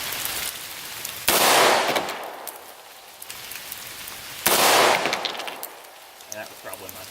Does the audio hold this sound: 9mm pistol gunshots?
yes